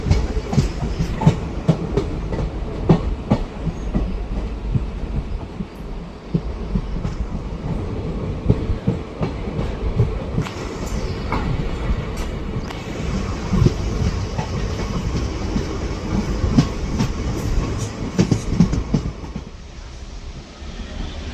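A DEMU passenger train runs on the rails between Bidar and Kalaburagi via Humnabad, giving a loud, continuous rumble with rhythmic clickety-clack from the wheels throughout, heard from on board.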